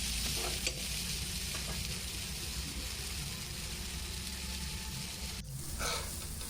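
Vegetables for a dry chole masala are stir-fried over a high flame, giving a loud, continuous sizzle with constant stirring and a brief scrape near the end.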